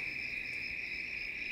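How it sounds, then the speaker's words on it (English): Crickets chirp in a steady, continuous high trill, clear and fairly loud, with no other sound over it. "Oh, crickets are here."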